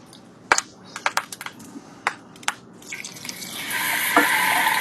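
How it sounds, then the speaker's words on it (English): Chicken tenders are laid into a hot skillet of extra virgin olive oil: a few sharp clicks and taps come first, then a bright, building sizzle rises and carries on close by. "So the skillet's dripping hot. Time to start laying those chicken tenders in."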